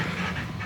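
A puppy pants in quick, soft, even breaths close by, short and quiet, with no voices.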